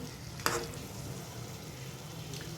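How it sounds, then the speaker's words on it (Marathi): Spiced radish sabzi with masala stirred in a pan: a quiet, even sizzle continues throughout, with a single sharp scrape or knock near the start and a fainter one near the end, close up and without talk. "1-2 सेकंद न झाकता आपण ह्याला थोडंसं परतून घेऊया, कारण आपण मसाला घातलेला आहे"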